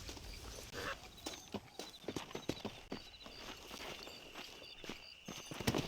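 Horses' hooves clip-clop in the video game Red Dead Redemption, a faint, irregular series of sharp knocks spread over several seconds with a quiet background.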